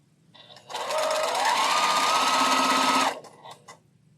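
Close, loud sewing machine stitching a quilt block for about two and a half seconds, its whirring motor rising slightly in pitch as it speeds up, then stopping, with faint room noise around it.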